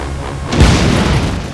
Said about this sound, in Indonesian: langsung membuat pengalihan dengan meledakkan sebuah mobil